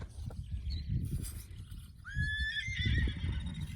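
Horses neigh and whinny in a rural vegetable garden setting, with a long, clear whinny rising about halfway through, close by, over low rustling and faint hoof clip-clop.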